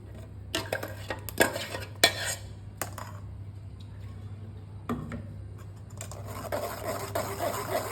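Raw mango sharbat mixture is strained through a sieve, heard as scattered clinks and scrapes of a utensil against metal and dishes, close and fairly quiet.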